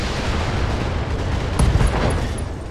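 Weapons fire setting off an ammo explosion in the BattleTech video game: a continuous rumbling barrage swelling into a heavier blast about halfway through.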